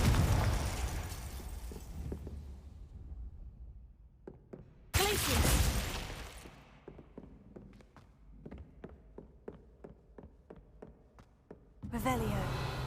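The Confringo explosive spell from Hogwarts Legacy goes off in two loud bursts, a crackling blast with a long fading rumble, then a series of quick faint taps before another explosion at the end.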